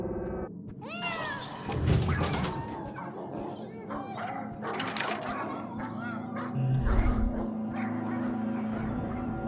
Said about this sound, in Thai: โอ้ลูกแมว